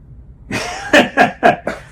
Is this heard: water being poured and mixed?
no